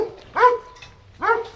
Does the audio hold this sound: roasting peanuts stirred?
no